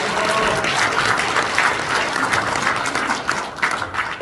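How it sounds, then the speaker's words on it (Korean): A crowd applauds steadily throughout, a dense patter of many hands clapping at an even, lively level. "큰 박수 한번"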